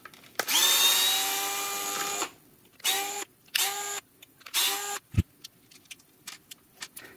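Powered screwdriver backing out T10 security screws from a Ridgid 18V Hyper Lithium battery pack: a long whirring run followed by three shorter bursts, with light clicks and rattles of the loosened screws in between.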